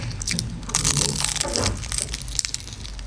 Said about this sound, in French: Écoutez la croustillance.